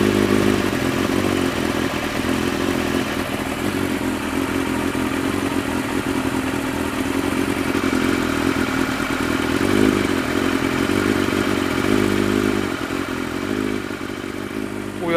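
Motorcycle engine idling steadily after a battery jump start with the choke applied, a continuous loud mechanical running tone with light clatter throughout, no speech.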